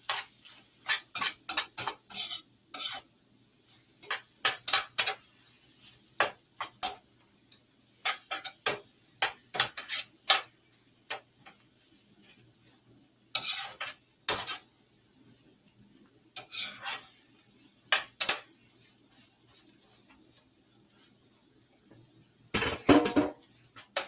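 Shepherd's pie filling stirred in a pot, a series of sharp close spoon clinks and scrapes in irregular bursts separated by quiet pauses.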